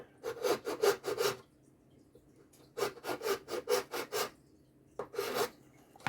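Plastic model aircraft parts from a 1/32 Revell Mosquito being sanded by hand, rapid rasping strokes in three bursts separated by short pauses, close and fairly loud with no talking.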